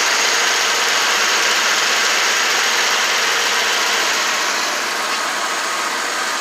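A 1992 Lexus LS400 engine idles smoothly and steadily at close range, a constant even drone holding without change throughout, with a newly replaced coolant temperature sensor fitted after the car sat unused for a long time.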